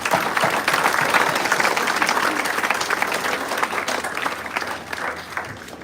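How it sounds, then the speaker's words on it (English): Audience applause fills a hall at the Global Institute of Technology & Management in Gurgaon: a dense, continuous clapping from a large crowd that stays loud for the whole stretch and eases only slightly near the end. "Let's give them a bigger round of applause"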